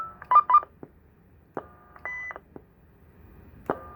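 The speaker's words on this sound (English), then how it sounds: "Move it one over to menu 2, and that's the Roger beep." A two-way radio roger beep sounds as a few short, clean electronic tones, separated by clicks and brief pauses, in an otherwise quiet room.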